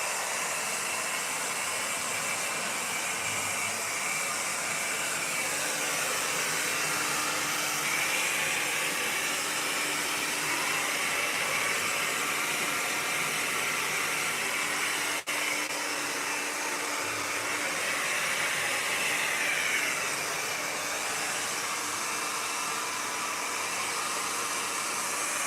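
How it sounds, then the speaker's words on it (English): A blow dryer drying a man's hair runs close and loud as one steady, unbroken airy roar for the whole stretch, with no talking. "run it through with the blow dryer"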